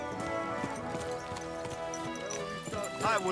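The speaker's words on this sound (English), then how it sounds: "Watch out with that horse!" Steady clip-clop of horse hooves in the video game Kingdom Come: Deliverance II, under overlapping voices and background music, with a brief whinny near the end.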